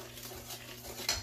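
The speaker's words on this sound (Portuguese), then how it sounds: "eu vou juntar a farinha às colheradas aqui na minha massa dos ovos e com açúcar. E vou misturar" A spoon stirs flour into an egg and sugar batter for a carrot cake, soft scraping and swishing against the bowl at low volume, ending in one brighter clink.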